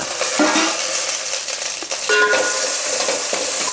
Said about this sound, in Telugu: ఆయిల్ ఇప్పుడు మనం మిరపకాయలు వేసుకున్నాం